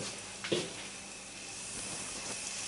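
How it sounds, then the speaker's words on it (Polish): A steady hiss of oil frying yeast pancakes with bananas fills the scene, with a brief louder crackle near the start, close and continuous, no voices. "Smażymy na złoty kolor z jednej i z drugiej strony."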